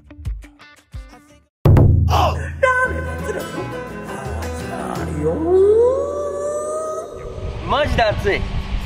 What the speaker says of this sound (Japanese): セミもまだ鳴きおるじゃん。